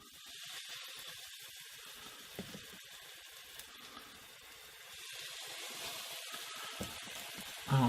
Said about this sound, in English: Yep, it's sizzling, so it's ready.